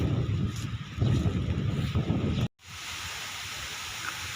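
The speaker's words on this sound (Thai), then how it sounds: "ลมพัดฝนตกเนาะทุกคน" Steady rushing wind with a dense patter of rain, loud and close, dropping out briefly midway before a softer, even hiss resumes.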